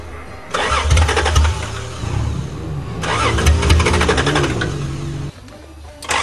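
Engine of a 1982 Toyota Cressida cranking and catching, running loud and close with rough, uneven revving that surges twice and dips near the end, with no talk over it.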